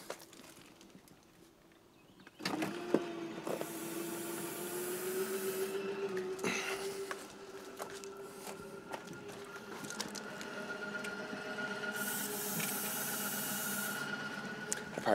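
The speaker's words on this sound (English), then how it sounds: "when Ariel brings in the slides, it's the only time I like to pull out the lube and I spray the gears as she brings it in" RV slide-outs retract with a steady motor whine and mechanical grinding while short bursts of spray lubricant hiss onto the gears, close by and moderately loud.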